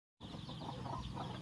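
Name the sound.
chickens clucking in a farm coop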